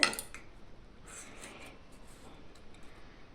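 A knife cuts into a soft cake baked in a kadai on the stove without an oven, giving a few quiet scraping strokes that follow one sharper clink at the start.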